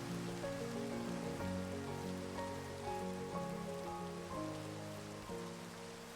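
Steady rain pattering on surfaces in a block-building video game, a continuous close wash of drops layered over soft tonal game music, with no talking.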